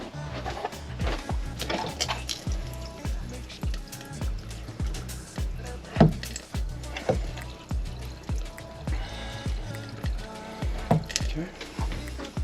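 Antifreeze runs from an RV kitchen faucet during winterizing, a steady liquid flow and dripping with repeated sharp taps and clunks over it, fairly close, while a person talks intermittently.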